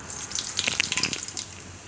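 Mustard seeds hit hot oil in a Gujarati kitchen while bottle gourd curry is being made, giving a dense, crackling sizzle of fine pops and spits that is steady and fairly close, with no voice over it.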